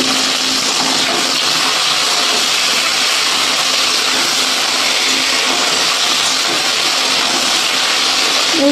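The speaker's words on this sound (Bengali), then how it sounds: "এই পটল ভাজার তেলে ভেন্ডিগুলো ভেজে নিচ্ছি বন্ধুরা" Okra frying in oil left over from frying pointed gourd makes a loud, dense, continuous sizzle and hiss that runs evenly from start to finish, with no talk over it.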